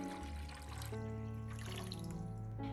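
Water pouring steadily into a basin, a soft continuous trickle under a sustained musical tone, fairly quiet and unbroken.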